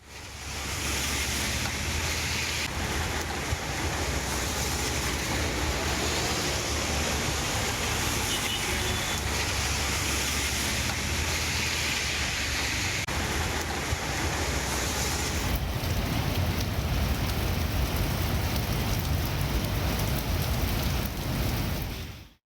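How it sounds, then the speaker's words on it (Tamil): Steady rain driven by wind across Chennai's suburbs, a dense, continuous rushing hiss with a low gusty rumble underneath, loud and unbroken with no voices. "சென்னை புறநகர் பகுதிகளில் காற்றுடன் மழை பெய்து வருகிறது."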